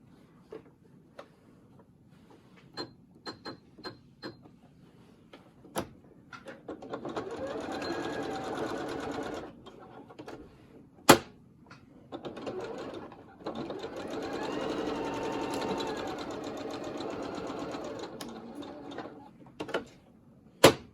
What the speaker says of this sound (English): And then we're going to sew it up to encase it.